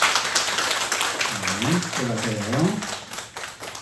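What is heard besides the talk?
congregation clapping to bless newlyweds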